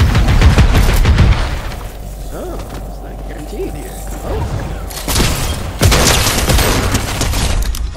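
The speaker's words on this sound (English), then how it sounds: "Sensei, you're shooting it over, bro." Rapid bursts of Fortnite gunfire ring out in close, loud clusters at the start and end, with a quieter stretch between. Excited voices talk over the shots.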